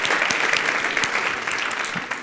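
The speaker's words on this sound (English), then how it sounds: "Give yourselves a round of applause" A TEDx talk audience breaks into brisk, dense applause, many hands clapping together at close range without pause through the whole short stretch.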